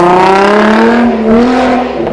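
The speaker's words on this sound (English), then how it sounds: "a G35 that has a Motordyne Shockwave TDX exhaust" Infiniti G35 with a VQ V6 and Motordyne Shockwave TDX exhaust revving, a loud close engine note whose pitch rises then holds and eases, rich with harmonics and nothing else over it.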